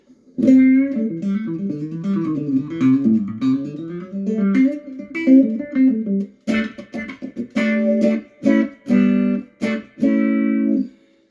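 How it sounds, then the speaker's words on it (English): An electric guitar through a wah pedal on its shallower setting plays sliding, sweeping tones that open and close in a wah-like vowel sweep, then several choppy strummed chords, up close and alone. "That is for more subtle wah chords and solos."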